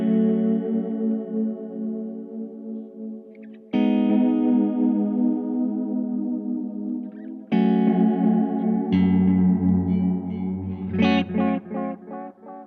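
Guitar played through a Gurus Echosex 3 10th Anniversary Edition delay pedal set to slow, long modulation, sustained chords ringing into wobbling, chorus-like repeats, with three new strums and a busier phrase near the end.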